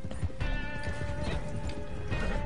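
Hooves clip-clop in the game Red Dead Redemption Online, a horse moving at a steady gait, with a whinny-like tone and musical score running throughout at a constant level.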